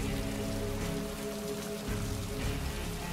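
Rain falls steadily in the video game Heavy Rain, a dense, continuous patter on hard surfaces that stays loud throughout, with a faint low hum underneath and no voices.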